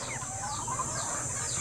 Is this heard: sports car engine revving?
no